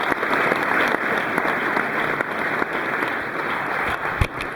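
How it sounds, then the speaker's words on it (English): An audience gives a round of applause with sustained, dense clapping throughout, loud and steady, with no voices over it. "please give them a great round of applause."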